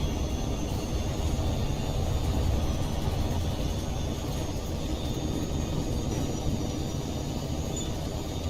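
Enemy jet aircraft in the HAWX 2 combat game make a continuous, loud, dense engine roar that holds steady throughout with no talking.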